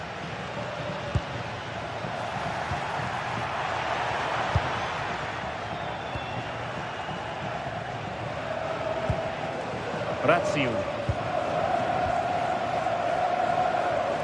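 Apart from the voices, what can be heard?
stadium crowd in a football video game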